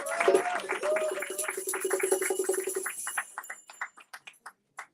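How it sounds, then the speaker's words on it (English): A gathering at a Kwanzaa celebration claps along under a sustained voice; the clapping thins after a few seconds into scattered, separate claps and fades out. "give yourselves another round of applause"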